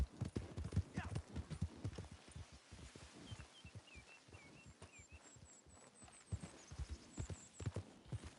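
Horse hooves clip-clop steadily in Red Dead Redemption 2 Online as the horse walks near Blackwater, regular hoofbeats up close with a few faint bird chirps and a brief whinny in the background.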